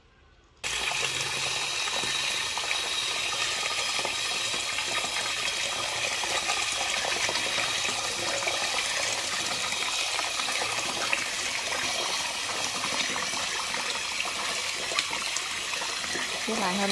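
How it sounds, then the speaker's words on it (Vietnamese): Water gushes from a hose into a basin holding freshly caught stream crabs, a loud steady rushing and splashing that starts abruptly and continues unbroken, with faint voices underneath. "Mình xả nước vô."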